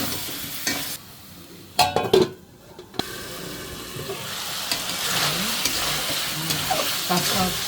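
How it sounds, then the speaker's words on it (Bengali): Raw banana being stir-fried with masala in a pan for a hilsa fish curry, with loud spatula scrapes and clatter early on, then a continuous sizzle with stirring. "এখন আমি এখানে কাঁচা কলাটা দিয়ে দিব দিয়ে কলাটা একটু ভালো করে কষানো নেব"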